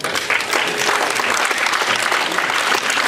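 Loud, sustained applause from the audience of a youth policy forum panel discussion in Latvia, many hands clapping in a dense, even roar close by.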